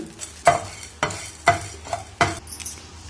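Whole spices—cloves, cardamom, cinnamon, caraway, coriander seeds, peppercorns—and dried coconut pieces dry roasting in a pan for a meal maker curry, stirred in four distinct scraping strokes about half a second apart, close and fairly loud with no talk.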